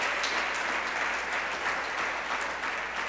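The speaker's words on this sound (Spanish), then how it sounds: "Dele palmas." Congregation claps during a Spanish-language Sunday church service. Brisk, steady applause continues at an even level for a few seconds, with faint voices underneath.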